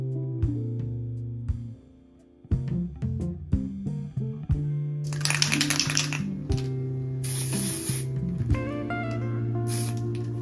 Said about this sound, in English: We're gonna see if we can spray paint some Clementines on these guys real quick